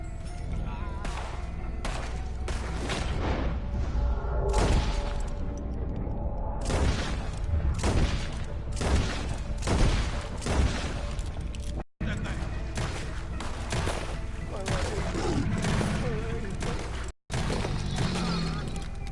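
Rapid exchanges of gunfire in the video game Red Dead Redemption 2, many sharp close shots in irregular bursts over a busy battle din, with voices talking throughout.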